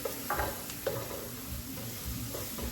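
Diced garlic sizzles in a gumbo pot while a utensil stirs it, with soft repeated scrapes over a steady, fairly quiet frying hiss and no talking.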